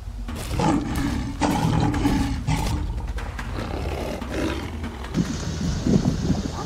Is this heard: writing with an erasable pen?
no